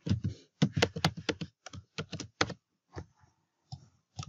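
Keys on a computer keyboard typed in quick bursts of sharp, close clicks, pausing between short runs as a new password is entered, with no talking.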